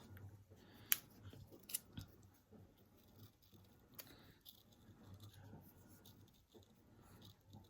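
Quiet, sparse snips of scissors cutting paper, a few sharp crisp cuts among soft rustling and handling noises.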